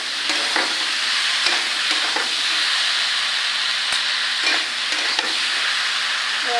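Tomato hits hot oil with frying ginger and garlic, giving a steady, loud sizzle with faint scraping stirs throughout, no voices over it.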